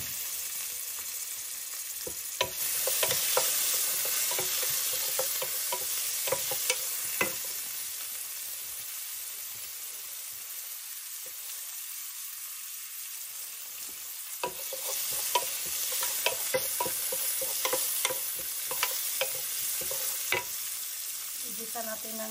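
Garlic and onion sautéing together in a pot for a Filipino misua soup with shrimp and zucchini, giving a steady close sizzle broken by scraping stir strokes, with a quieter stretch midway before the stirring picks up again.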